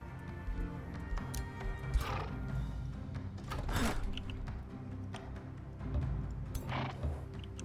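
A horse unit neighs and whinnies in the fantasy strategy game Age of Wonders 4, with hoof clip-clops, set fairly low in the mix over steady game ambience.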